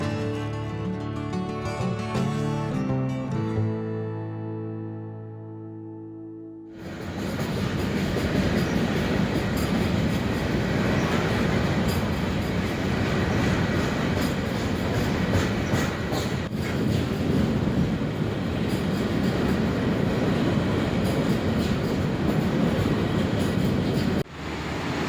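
A train runs along a river through mountains. After a few seconds of tonal sound, a steady, close rumble of rolling wagons and clacking wheels takes over and continues to the end.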